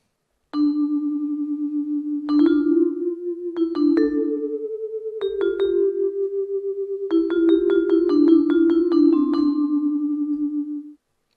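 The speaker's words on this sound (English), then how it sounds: "Then we've got a vibraphone. Let's do single hits random." A sampled orchestral vibraphone plays random single mallet hits, each a clear ringing metallic note that sustains and overlaps the next, in a loose uneven rhythm of moderate loudness with no other sounds.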